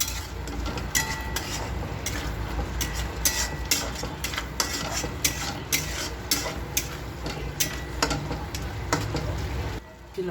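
A spice mixture with cardamom, two cloves and caraway seeds for a chicken fry curry is stirred in a pan, with regular metal spoon scrapes and taps over a constant low sizzle and hum, close and fairly even.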